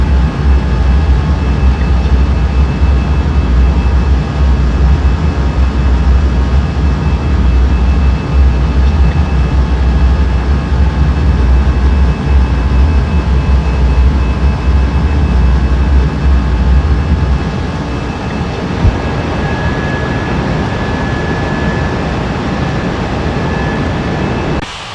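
An airliner taking off from runway 30 left, a loud, continuous low engine roar with a steady high whine that holds near and then eases slightly toward the end, with no talk.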